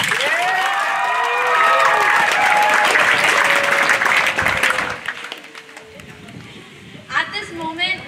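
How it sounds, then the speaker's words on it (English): Graduation ceremony audience applauding and cheering loudly with whoops and shouts, then fading out into scattered claps and murmuring, with a short burst of voices near the end. "Let's give them another round of applause"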